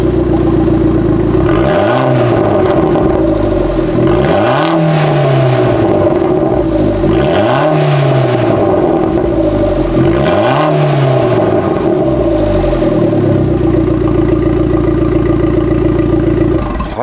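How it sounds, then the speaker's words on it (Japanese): An Abarth 500 engine and exhaust idles close up, then is revved in repeated blips, each rise falling back with a light burbling crackle from the exhaust, with no voices over it. "じゃあこの車もサイさんちょっとサウンドを聞かせてもらってもいいですか。"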